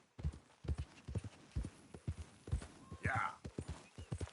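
Horse hooves in Red Dead Redemption 2 clip-clop in a steady, even rhythm close by, with a short neigh partway through and a man's brief spoken word over the footfalls.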